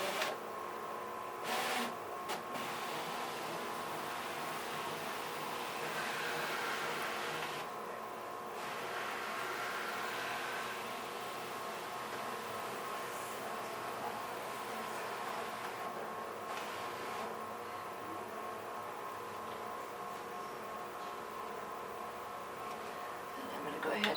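A cutting machine scanning a mat, a steady mechanical hum with a faint whirring drone and occasional clicks running throughout, close by, with voices talking at points.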